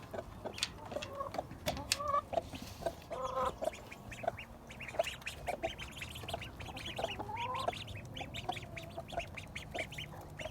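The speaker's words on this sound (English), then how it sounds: "Let's go let the ducks out this morning." Ducks let out of their enclosure in the morning quack and chatter continuously, a noisy flock close by with overlapping calls and a few clucking notes throughout.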